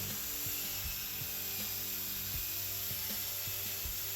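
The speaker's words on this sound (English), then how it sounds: "Picked up a wire wheel that goes on the end of a drill. And this is the next step of cleaning up the live edge," A wire wheel spun by a drill scrubs the live edge of a wood board for a river-style cutting board, a steady high abrasive whir with rhythmic scraping pulses, close and alone.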